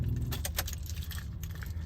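Keys jangle close by as a key is turned in the ignition of a 2011 Toyota Sienna minivan, a steady light metallic clatter over a low cabin rumble lasting under two seconds.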